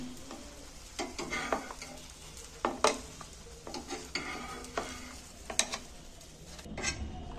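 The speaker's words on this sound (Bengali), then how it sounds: "এবার বাকিগুলো আর একবার আমি ভেজে নিচ্ছি।" Egg and onion fritters frying in a little oil, with a steady sizzle under repeated sharp scrapes and clinks of a spatula stirring against the pan; no voices.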